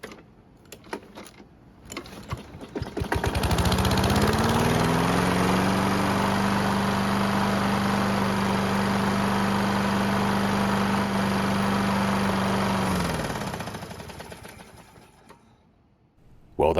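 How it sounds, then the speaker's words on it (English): A Husqvarna lawn mower engine, hot after running several minutes, cranks briefly then catches and runs loud and steady with a slightly rough tone for about ten seconds before winding down, close up with no talk. "The engine sounds a bit rough and it took several pulls to start, but at least it starts and runs now"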